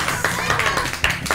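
Short burst of clapping for two Playmobil magicians at a toy circus show, a handful of quick close claps in an uneven rhythm under a voice.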